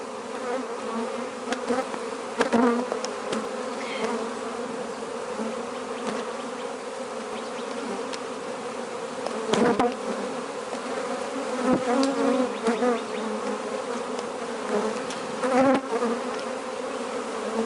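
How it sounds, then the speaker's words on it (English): A dense, steady hum of many honeybees buzzing close by in an open hive, with louder individual buzzes swelling in and out over the drone. "A lot of bees in this hive."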